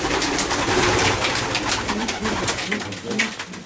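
Breeding pigeons coo in a loft, many birds at once in a dense, continuous murmur of overlapping calls close by, with no clear talk over them.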